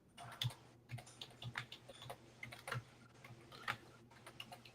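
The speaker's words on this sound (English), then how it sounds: "I'm typing to Philip" Keyboard typing, heard as scattered soft key taps in irregular clusters, fairly quiet and a little distant over a faint steady hum, with no voices.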